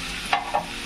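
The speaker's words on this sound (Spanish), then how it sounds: "ya el ajito está tomando color" Garlic fries in oil in a pan, a brief, even hiss of sizzling with two soft scraping taps of a utensil close by and no voices.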